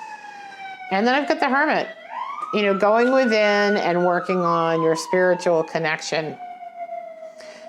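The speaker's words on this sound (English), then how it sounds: "I apologize for the sirens in the background." Emergency vehicle sirens sound outside near a hospital: a steady, wavering siren tone runs in the background for most of the stretch while a person talks over it close up.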